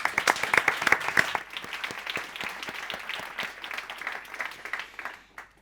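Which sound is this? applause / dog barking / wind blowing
applause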